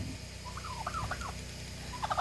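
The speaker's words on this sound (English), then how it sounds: "We got some goats, got some turkeys." Turkeys gobble in a farmyard, two quick rattling gobble bursts at moderate distance over a low background hum.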